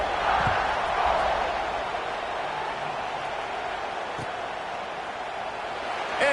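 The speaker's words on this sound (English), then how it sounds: "this crowd is buzzing after that last score" A stadium crowd buzzing after a score in the college football video game NCAA 25, a steady, loud, wash of crowd noise that continues unbroken throughout.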